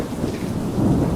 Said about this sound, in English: she suddenly started to hear the rain pour heavily outside.